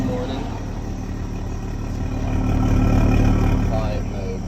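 A Toyota Supra with a valved exhaust set to quiet mode idles in a low, steady rumble that swells slightly toward the middle before easing back.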